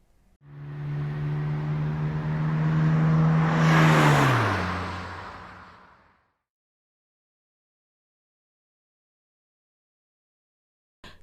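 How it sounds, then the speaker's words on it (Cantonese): A small, fast car approaches with a building roar and whizzes past, its pitch dropping sharply as it recedes and fades out, followed by silence. "有一架好快嘅車駛咗過嚟啊！"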